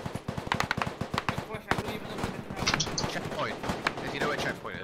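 Gunfire in the Roblox shooter game: rapid, loud bursts of automatic shots crack in quick succession at first, then thin to scattered shots under players talking.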